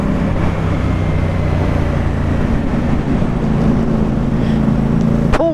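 A CF Moto 450 SR-S motorcycle pulls hard in fourth gear, a loud continuous engine roar with wind rush, steady throughout with a brief sharp click near the end.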